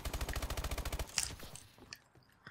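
A rapid burst of automatic gunfire from a shooter video game in gun game mode rattles off about a dozen evenly spaced shots, then gives way to a sharp impact and a few scattered faint clicks, quiet overall.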